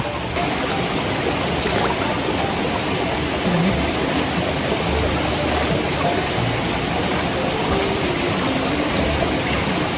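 Steady, loud rushing water fills the whole stretch, a continuous broadband roar of fast-flowing floodwater without pauses.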